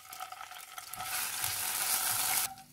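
Garlic, ginger and green chili paste hits hot oil with cumin in a pan, a steady close sizzle that swells louder after the first second and cuts off abruptly near the end.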